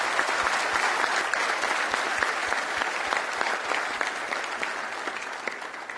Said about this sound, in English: A huge round of applause to all the individuals